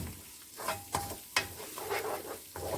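Onions, peppers and garlic stirred and sizzling with tomato sauce in a pan, with scraping spoon strokes over a steady crackle and a few sharper knocks, close and fairly soft.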